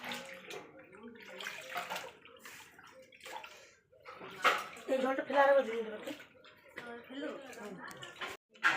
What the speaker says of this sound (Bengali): এখন চালটা পরিষ্কার করে ধুয়ে নেবে